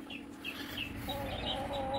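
A hen clucks softly in a few short, throaty bursts, close but quiet against a faint background hum.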